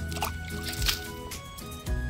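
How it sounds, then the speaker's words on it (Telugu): Water is poured by hand onto the soil around a newly planted fruit tree on sloping ground, giving a couple of short, soft, wet splashes and squishes close by. "అలా నీళ్ళు పోసేస్తున్నాను."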